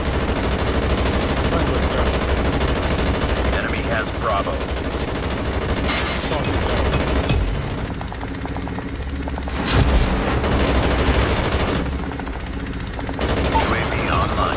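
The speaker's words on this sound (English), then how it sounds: "Deployed chopper gunner" Sustained helicopter-mounted gunfire from a chopper gunner killstreak in a Call of Duty match, dense and continuous over a rumbling rotor bed with explosions, while a game announcer voice speaks briefly.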